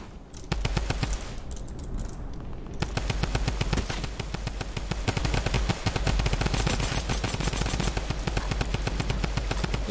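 Rapid automatic bursts from a drum gun in Fortnite Battle Royale, loud and close, firing nearly continuously over a steady low game rumble with no talk.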